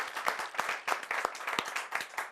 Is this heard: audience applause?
yes